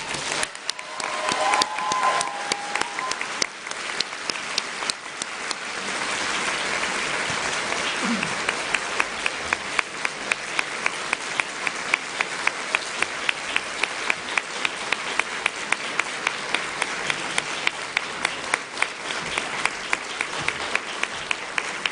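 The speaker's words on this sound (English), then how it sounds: "Please give them a huge and rousing round of applause" A large graduation-ceremony audience gives a long, sustained round of applause, a thick, even roar of many hands clapping that stays strong throughout, with some clapping becoming rhythmic and synchronized.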